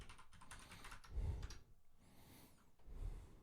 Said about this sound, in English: It's the thing about typing in these commands live